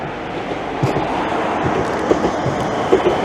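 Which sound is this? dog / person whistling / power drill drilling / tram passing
tram passing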